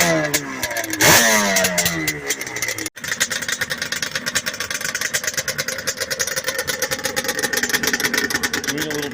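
A Yamaha Banshee 350 two-stroke motorcycle engine runs close by with a buzzy, ringing exhaust note, revving briefly before settling into a fast, steady idle during carburetor jetting work.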